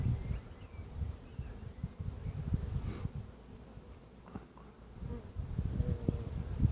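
A swarm of honey bees being collected by a beekeeper buzzes close by in a low, wavering drone, rising and falling in loudness, with light rustling underneath.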